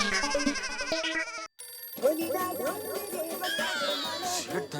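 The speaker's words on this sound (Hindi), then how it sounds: "सेठ धनराज सिंघानिया जी का फोन" A telephone ringtone rings in a comedic Hindi household scene: a rapid, repeating electronic melody, briefly cut off, then resuming amid busy background sound, loud and close.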